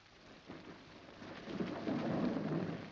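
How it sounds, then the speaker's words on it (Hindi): Thunder rolls low and swells beneath steady rain pattering on surfaces, growing louder toward the end with no voices present. "बारिश हो रही है"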